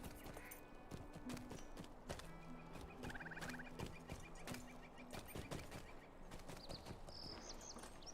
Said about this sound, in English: Wow, the goats make the most horrific sound in this game.